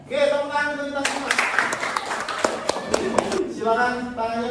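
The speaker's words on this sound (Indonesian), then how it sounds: "tepuk tangan untuk kita semua" A group claps together after an exercise session, a burst of many hands lasting a few seconds between stretches of talk, with some sharper individual claps standing out near the end.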